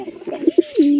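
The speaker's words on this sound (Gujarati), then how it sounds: "અહીંયા જંગલી કબૂતરનું બચ્ચું બેઠું છે એક" A wild pigeon coos at a nest box, a few soft low throaty coos ending in one longer drawn-out note, close by with no talk.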